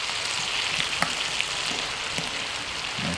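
Shrimp and asparagus frying in butter in a skillet, giving a steady close sizzle with faint crackling pops and occasional soft stirring scrapes, with no talking.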